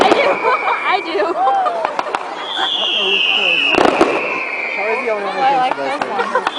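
Family Day celebration fireworks go off with a few sharp pops and a louder bang near the middle, along with whistling streaks, under constant nearby chatter and laughter.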